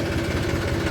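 A tractor engine runs steadily at a low idle with the clutch held fully down, giving a close, even mechanical rumble that holds without change and has no voices over it.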